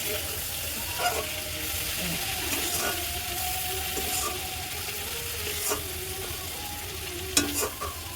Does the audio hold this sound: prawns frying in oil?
yes